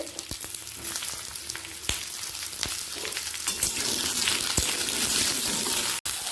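Chopped potato, taro and pointed gourd fry on high flame in a little oil, a dense, continuous close sizzle with occasional utensil knocks and stirring scrapes.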